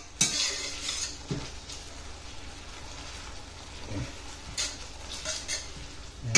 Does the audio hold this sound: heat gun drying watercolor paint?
no